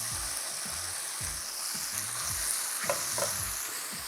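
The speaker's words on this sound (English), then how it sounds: "when I add my tofu into the pan, there is gonna be a bit of a sizzle" Tofu frying in hot oil in a pan gives a constant crackling sizzle, with low knocks and scraping from stirring pieces around at intervals, and no talking.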